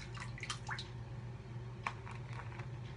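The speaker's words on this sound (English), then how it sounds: "I'll put a little bit more water in" Water drips and splashes faintly into a shaving soap bowl, a few quiet wet squishes and plinks scattered over three seconds against a low background hum.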